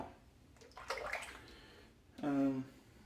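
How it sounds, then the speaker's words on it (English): Water runs and splashes briefly while soap is rinsed off, with a short burst near the start and a stronger gush toward the end, close to the microphone. "As I was rinsing there"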